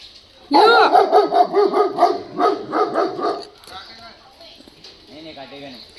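A dog barks loudly in a quick, rhythmic run of repeated barks, then the barking fades and softer sounds and a voice follow.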